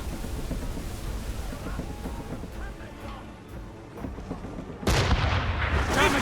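Ship cannons boom during an Assassin's Creed Rogue naval battle, a steady rumble of distant broadside fire and churning sea noise, then a louder, dense burst of blasts near the end, with shouted voices mixed in.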